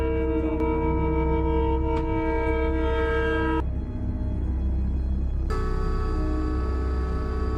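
A train passes on railway tracks, with a loud sustained horn blast that breaks off and then resumes over a constant heavy rumble of the cars rolling by close at hand.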